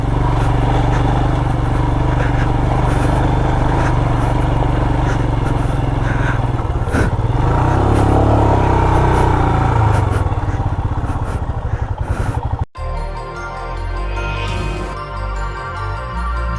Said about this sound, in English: Let me see if the bike is able to pull.